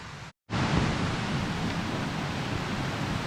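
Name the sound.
fast flowing water near Derwent Dam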